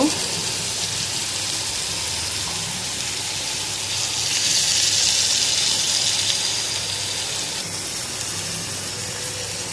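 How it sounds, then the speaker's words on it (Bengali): Washed prawns frying in a pan, a loud continuous close sizzle and hiss that swells briefly midway, no talking. "সুন্দর করে ধুয়ে নিয়ে ভাজি করে নিচ্ছি।"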